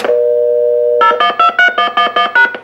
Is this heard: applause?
no